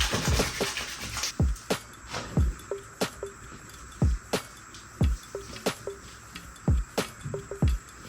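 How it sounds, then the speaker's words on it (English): Face washing with Medicube Zero Pore Cleansing Foam: soft wet squelches and drips repeat at a steady pace, close and quiet, as foamy hands rub over skin, with no talk. "let's wash with my Medicube Zero Pore Cleansing Foam"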